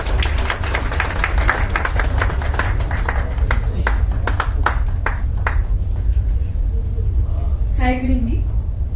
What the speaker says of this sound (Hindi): जोरदार तालीम मैम के लिए